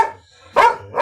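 A dog gives two loud, close barks separated by a brief pause, with no talk over them.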